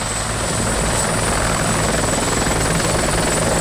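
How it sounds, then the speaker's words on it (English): A helicopter lifts off from a landing zone in the ArmA 2 video game, its rotor and engine making a loud, steady, close drone that holds for the whole stretch without any voices. "we can also tell the helicopter to dust off"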